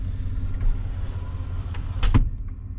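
A Chevrolet Silverado pickup truck engine idling with a low, steady growl after a cold start, heard close and alone, with a short louder rumble near the end.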